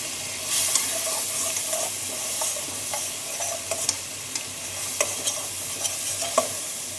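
Water splashed into a hot pan while cooking chicken biryani, giving a steady hissing sizzle with crackling bursts and stirring scrapes close by, no voices.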